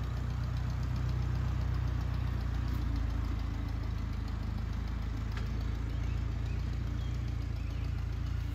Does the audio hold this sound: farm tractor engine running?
yes